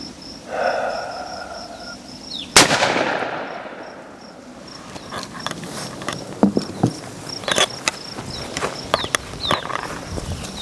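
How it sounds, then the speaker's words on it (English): A single loud close gunshot from a 4-inch Smith & Wesson Model 65 revolver firing a 147 grain Winchester Silver Tip .357 Magnum load, followed by a decaying echo and scattered clicks and taps. "This will be the 147 grain Winchester Silver Tip 357 Magnum load, fired out of a 4-inch Smith & Wesson Model 65."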